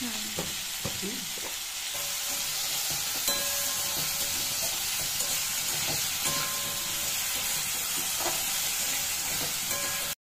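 Sugar frying in oil in a wok, a steady bright sizzle running the whole time with soft stirring scrapes and a few small clinks near the start, no voices.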